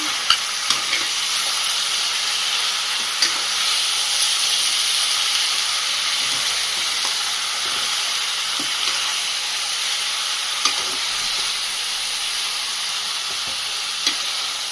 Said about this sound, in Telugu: ఇది పచ్చివాసన పోయిందాక హై ఫ్లేమ్లో ఒక 5 మినిట్స్ ఉడికించుకున్నాం